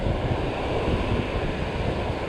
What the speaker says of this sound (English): Just waiting for that big wave, that big set to come through.